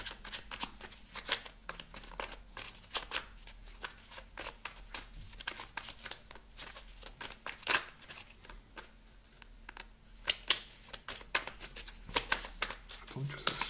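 Oracle cards being shuffled by hand in a divination reading, a steady run of quick, crisp riffling snaps repeating close by for the whole stretch, with no talk over it.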